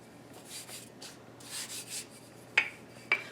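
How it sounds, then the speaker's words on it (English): Sugar cookie dough is rolled out from the center with a rolling pin, making soft repeated rubbing strokes, followed by two sharp light knocks near the end, close and fairly quiet. "Start in the center and push the dough out until it's about 1/4 inch in thickness."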